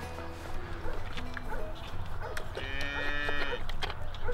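Dairy cows moo in a barn, several drawn-out lowing calls overlapping at moderate distance, with a dog yipping and barking among them over a steady barn background.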